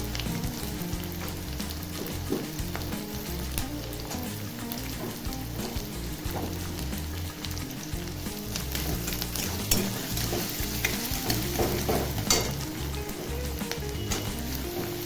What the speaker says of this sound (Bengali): সামান্য ভাজা ভাজা হয়ে এলে এবার পেঁয়াজ কুচিটা দিয়ে দেবো।